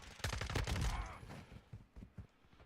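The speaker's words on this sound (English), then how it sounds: "I just made that guy fire his mag" Enemy rifle fire in Modern Warfare 2 beta multiplayer, a rapid burst of gunshots up front that tapers into a few scattered, fainter shots, fairly quiet overall.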